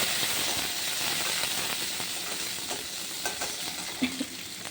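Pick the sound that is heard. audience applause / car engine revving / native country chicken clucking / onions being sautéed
onions being sautéed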